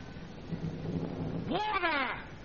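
Thunder in a 1936 comedy film soundtrack, a low rolling rumble under steady rain-like hiss, with a voice rising over it near the end.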